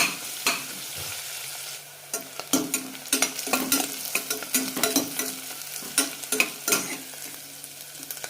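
Medium onions and green chillies fry in a pan for Ambur kuska biryani, with a steady sizzle under repeated scraping stirs that come in quick clusters, close and fairly loud, and no voices.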